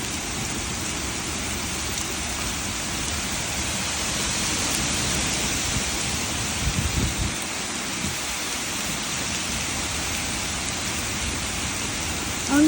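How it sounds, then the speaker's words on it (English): Heavy sheets of rain pour down steadily in a wind-driven thunderstorm with flash flooding, a dense, loud, continuous wash with a low rumble swelling near the middle, no voices. "the rains are kind of like sheets of rain"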